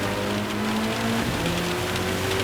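Steady, dense rain hisses throughout a wet race in the Gran Turismo 7 video game, with a faint engine drone and a pitch that slowly rises beneath the downpour.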